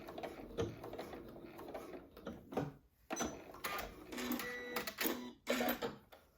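A sewing machine whirs and clatters in short runs of rapid stitching on elastic and knit fabric, stopping and starting, close by with no talking.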